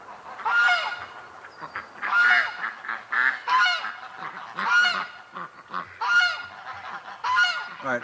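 Wild geese and ducks honk repeatedly from a short distance outdoors, overlapping calls rising and falling in irregular bursts with a few quacks mixed in and no talking.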